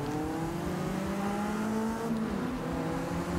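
A race car engine in the Forza Motorsport 6 racing video game revs steadily, a loud, continuous droning whine with rising and shifting pitch, heard alone without talk.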